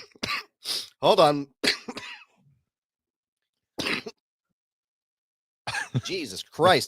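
A man coughs a few times between bursts of his own casual speech during a podcast-style conversation. The coughs are close and fairly loud, with short gaps of silence between them.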